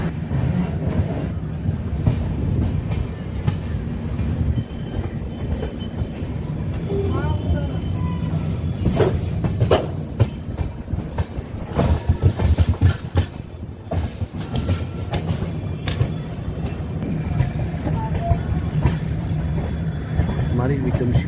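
The Vikramshila Express rolling along the rails toward Jamalpur, a steady loud rumble with clickety-clack wheel beats and rattling carriages throughout, with people talking over it.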